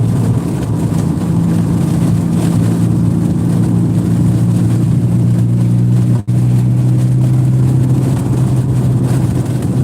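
Steady car engine drone and road rumble from inside a vehicle on a lane-changing drive, continuous and fairly loud with a brief dropout near the end; no talking.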